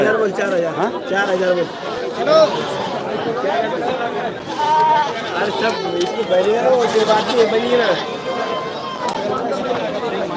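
Goats bleat repeatedly amid a busy crowd, with overlapping voices and chatter throughout a noisy outdoor goat market in Pachod.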